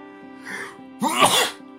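A character in the video game My Child Lebensborn sneezes once, clear and close, after a faint lead-in breath, over a steady game music background.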